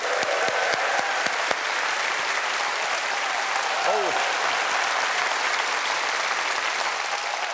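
A Korean comedy club TV studio audience gives a loud, sustained round of applause, dense and continuous clapping from many people with a voice briefly audible underneath.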